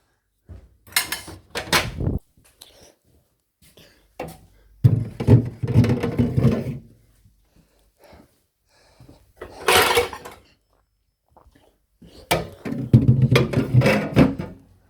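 Drawers slide into a cabinet whose door opens too little to let them in easily, in several separate bursts of scraping and knocking with quiet gaps between them.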